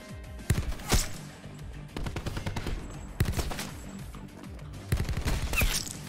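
Bursts of automatic gunfire in Black Ops 4 multiplayer, several sharp volleys spaced a second or two apart with rapid rattling between them, close and loud with no talk.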